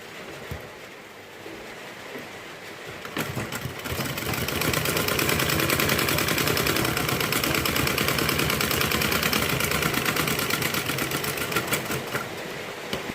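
A sewing machine stitches a blouse, running in a fast, even mechanical rattle. It starts softer, then grows louder and keeps going steadily, with no voices.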